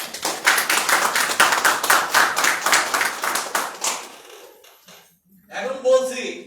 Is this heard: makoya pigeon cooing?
no